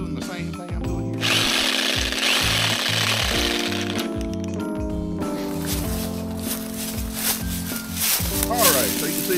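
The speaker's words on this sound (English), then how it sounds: "That's the best way to shake up a can of paint right there." A homemade power rig shakes a can of paint, giving a loud, steady mechanical rattle and drone like a drill, running continuously with a rough buzzing texture and shifting vibration throughout.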